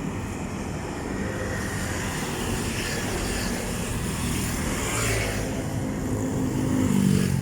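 Motorcycles and other vehicles pass along a wide, quiet road in Cabuyao, Laguna during Holy Week, a steady engine rumble and tire noise building slightly toward the end, with no talking.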